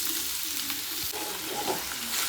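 Onions frying in oil for a biryani gravy, a steady close hiss of sizzling with occasional stirring scrapes, no voices.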